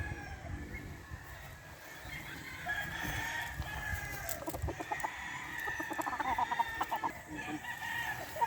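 Pure White Kelso gamefowl rooster on a game farm crows and clucks amid other chickens, loud and close against steady farmyard ambience with no talking.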